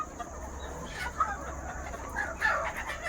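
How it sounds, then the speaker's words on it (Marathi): Desi village chickens on a farm, clucking and crowing faintly at a distance over a low steady hum, with short calls scattered through. "हे गावरान पक्षी."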